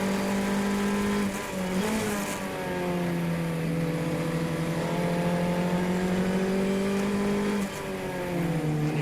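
Honda Fit race car engine in a road race, droning loud and close with steady harmonic tone that dips briefly around gear changes and lifts again, mixed with faint tire and track noise throughout.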